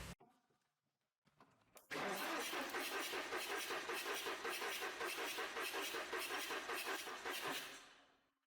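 An Audi A6 engine cranks during a compression test, and after a brief click it runs into a loud, even, rapid starter churn lasting about six seconds before stopping, close-up with nothing else over it.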